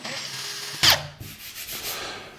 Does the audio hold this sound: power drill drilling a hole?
yes